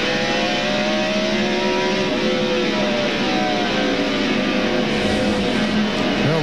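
NASCAR Winston Cup stock cars racing at Martinsville during the 1999 Goody's Body Pain 500. The pack produces a loud, dense roar of engines, with several overlapping rising and falling engine notes as cars accelerate past, filling all six seconds.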